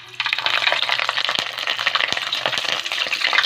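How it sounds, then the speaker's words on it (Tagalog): Quail frying in hot oil in a wok, a dense steady sizzle with crackles and occasional sharper pops, close and loud throughout with no talking. "Painit na ako ng mantika. Piprito na natin ngayon sila."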